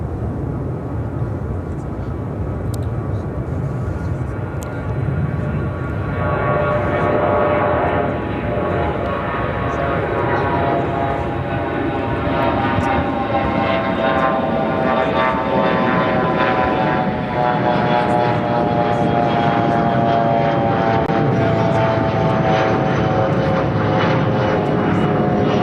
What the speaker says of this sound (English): Jordanian Dreamliner now rolling down at 28 right.